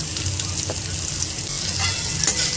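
Vegetables for sukto, including bitter gourd and pumpkin, frying with turmeric and salt, a close steady sizzle broken by occasional stirring scrapes of the spoon.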